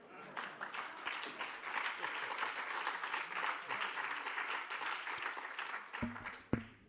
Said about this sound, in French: vous demander d'applaudir ce jour tout à fait particulier pour lui puisque c'est son anniversaire